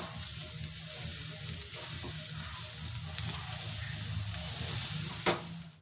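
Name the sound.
mixing spicy puli pitha filling in pan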